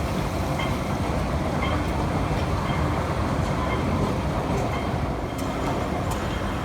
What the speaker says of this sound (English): Oh, there's my train.